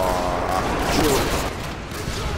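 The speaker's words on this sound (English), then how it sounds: "Who's shooting us?" Rapid gunfire in the Modern Warfare 2 video game crackles continuously as a dense, loud barrage, with a voice speaking over the shooting.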